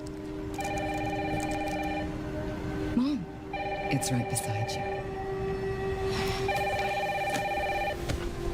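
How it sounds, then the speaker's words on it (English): A telephone rings in a rainy horror video game scene, three bursts of a bright electronic trill with pauses between, fairly close, heard under a steady background hum while people speak briefly. "Mom, phone."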